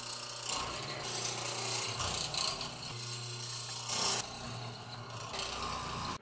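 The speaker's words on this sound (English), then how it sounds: "So we're gonna start mortising this out and make some square holes." A woodworking mortiser chops square mortise holes into a wooden workpiece, giving a steady, loud mechanical grinding and rubbing with rattling ratchet-like clicks that swells near the end, with no talking.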